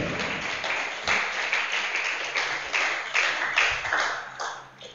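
Scattered, light clapping from a church congregation after a prayer, quiet and uneven, with individual claps tapping out in loose bursts that fade toward the end.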